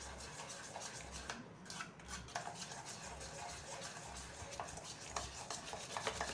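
Powdered sugar, cardamom and dry fruits being mixed into thick yogurt for shrikhand, a quiet, continuous scraping and rubbing of a spoon around a bowl with a soft rhythmic swish.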